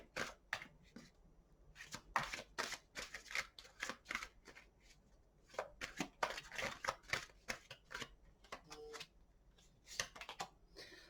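Close, quiet riffling of a tarot deck comes in quick bursts of papery flicks and taps, separated by brief pauses.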